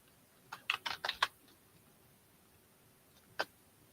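Someone types on a computer keyboard while logging an online live auction sale, producing a quick burst of close key clicks followed by a pause and a single final keystroke.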